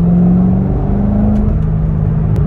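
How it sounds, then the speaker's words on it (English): A sports car engine accelerates in second gear with part throttle, a loud, close, steady rumbling drone that holds its pitch with no voices. "Literally second gear, rolling into the throttle, not even flooring it."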